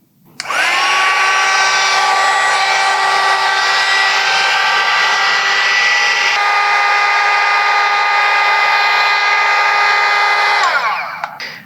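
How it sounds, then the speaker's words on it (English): A heat gun blows hot air steadily onto heat-shrink tubing over a repaired PC wire, a loud continuous whine and rush starting abruptly, holding for about ten seconds, then cutting off. "I'm gonna get my heat gun."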